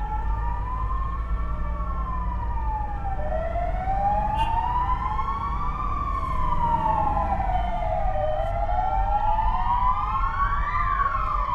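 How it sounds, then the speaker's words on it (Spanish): Several ambulance and Guardia Civil sirens wail together outside a hospital in a tribute to health workers, rising and falling in overlapping sweeps over a low rumble, loud and continuous throughout. "Y las sirenas que suenan."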